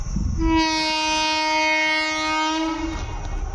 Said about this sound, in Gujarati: રેલગાડી આવી જો